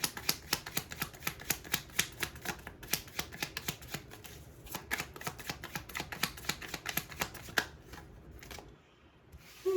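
A deck of tarot cards being shuffled: a rapid run of crisp riffling flutters and slaps close by, with a short pause partway, ending in a quieter stretch with a last soft shuffle.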